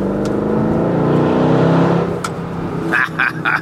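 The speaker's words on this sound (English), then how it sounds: "I love underpasses, I love tunnels in a car with a good exhaust" Car with an aftermarket exhaust revving in a tunnel, a loud sustained engine drone with dense harmonics that swells, then eases off, with a few sharp pops and crackles near the end.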